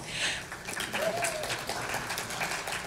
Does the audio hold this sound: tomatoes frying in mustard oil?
no